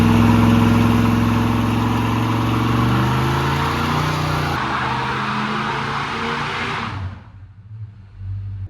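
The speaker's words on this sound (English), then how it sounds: "Figured out where to do a burnout." A 1968 Dodge Charger's stock 383 engine roars and revs hard during a burnout, with a harsh, hissing tire squeal layered on top, then cuts off abruptly, leaving a low idle rumble.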